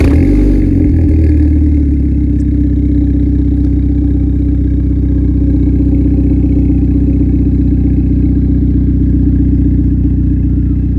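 A 300 hp Volkswagen Golf Pirelli Edition pulls away from a standstill, a loud, deep, steady engine drone heard close up throughout, with no voices.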